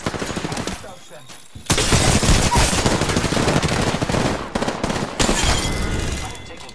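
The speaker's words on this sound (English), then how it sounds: "I'm taking fire, friends" Rapid automatic weapon fire in the battle royale shooter Apex Legends, dense bursts of shots cracking loudly after a brief lull, continuing in sustained volleys with short gaps, with game voice lines mixed underneath.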